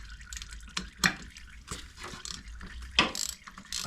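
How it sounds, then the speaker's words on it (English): Someone removes the oil filter on a Triumph Tiger 800 motorcycle during an oil change: close, quiet ratcheting clicks and metallic tool taps, with occasional drips of draining oil. "So while that's draining, let's get the oil filter off, get that draining too."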